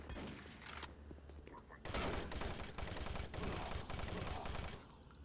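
Gunfire from shotgun-wielding enemy troopers in the video game Doom 3, a dense run of loud blasts and impacts that erupts after a quieter opening and keeps going, with a faint voice underneath.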